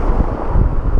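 Coastal wind buffets the microphone in a short, loud, steady rumbling gust with no talking.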